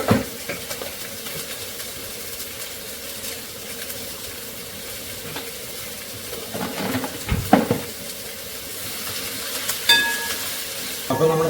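Onions fry in a pan with jaggery and salt, giving a steady sizzle under scraping and stirring, with sharper clinks from a utensil knocking the pan now and then.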